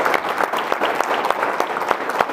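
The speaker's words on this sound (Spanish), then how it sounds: "un fuerte aplauso para agradecerle a nuestro conferencista" A lecture audience in a church hall breaks into hearty applause, close and even, with crisp individual claps standing out from a steady dense patter.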